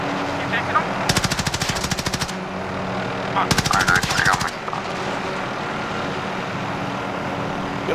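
Automatic gunfire in Call of Duty: Modern Warfare, two loud rapid bursts of machine-gun fire separated by a short pause, over a steady game-ambience hum.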